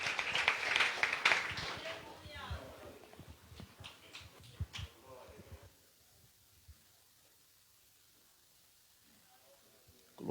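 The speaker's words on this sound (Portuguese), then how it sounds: "Aplauda Jesus. Mais forte que é para Ele." A church congregation claps in dense bursts for several seconds over a reverberant space, with voices mixed in. The clapping then thins into scattered pats and fades to a quiet room.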